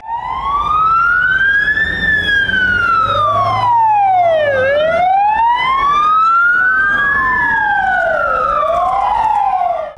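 Emergency vehicle sirens wail at an anti-terror drill at the Dnipro hydroelectric station, with three special vehicles of the emergency service present. The siren sweeps up and down continuously, loud and close, with no talk.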